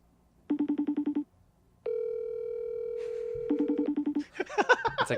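A FaceTime audio call rings out on a phone, with a steady ringback tone that repeats in short pulsed bursts and holds long stretches, followed by people talking over the end of it.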